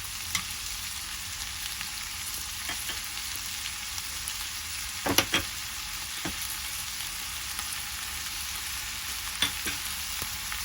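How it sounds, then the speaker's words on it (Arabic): Alexandrian sausage frying with spices in a pan gives a continuous quiet sizzle, marked by scattered scrapes and taps as it is stirred, including a brief cluster of knocks midway, with no voices. "هنزل الصدوق وطبعا هننزل بالبهارات"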